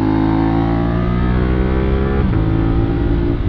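A stock motorcycle with worn tyres on a race track gives a loud, close, continuous engine roar that holds steady revs with a slight pitch shift near the end.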